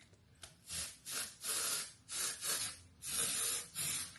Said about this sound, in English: I'm going to spray some of my texture spray.